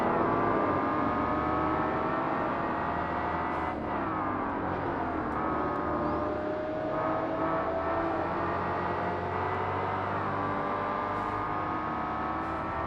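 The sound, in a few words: race car engines in video game Forza Motorsport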